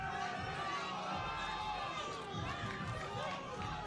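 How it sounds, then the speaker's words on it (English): A crowd roars continuously at a Karate Combat fight event, a dense wash of cheering and chatter, with a commentator's voice talking over it. "Action and noise here from the crowd for Kurdistan's own."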